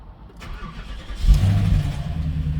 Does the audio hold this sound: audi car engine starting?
yes